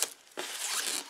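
Scissors snip and slice through the cardboard of a Warhammer 40K Sanctus Reach Stormclaw starter set box, a short sharp cut followed by a longer rasping tear, close and alone with no talk.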